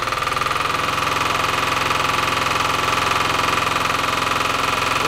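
A Lombardini diesel engine on a Wanco arrow board sign trailer runs steadily indoors with an exhaust pipe fitted, a loud, even, rapid chugging hum that holds constant throughout with no voices.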